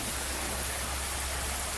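Steady rain falling outdoors, a continuous loud hiss of drops with no breaks, filling the whole moment evenly.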